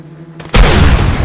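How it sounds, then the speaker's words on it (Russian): In a video game, an explosive drone detonates: a sudden loud boom cuts in after a short quiet moment, followed by a sustained rumbling blast that lingers to the end. "Это взрывной, оказывается, дрон-то был."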